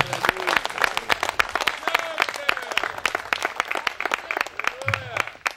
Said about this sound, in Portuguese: Palmas para Jesus nesta tarde.